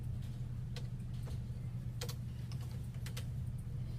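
Someone typing on a computer keyboard while coding, scattered quiet key clicks over a low steady hum, irregular taps at a casual pace.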